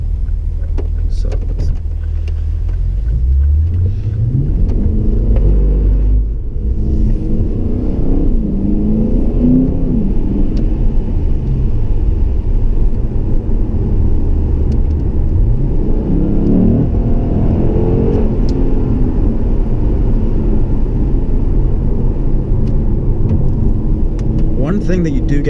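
A Lexus RC F's deep engine growls and revs continuously, loud and close, rising and falling in pitch with several accelerating surges.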